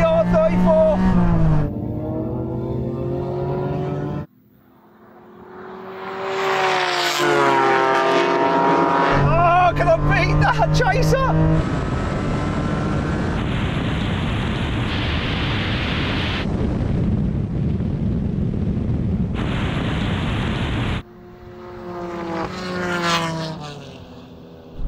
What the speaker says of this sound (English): this car just sounds beautiful